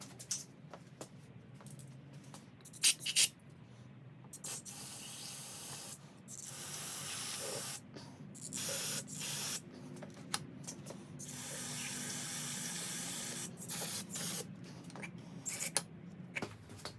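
Carburetor cleaner sprays onto the carburetors of a Yamaha VMAX motorcycle in short bursts of hissing. The sprays are separated by pauses, over a quiet background hum.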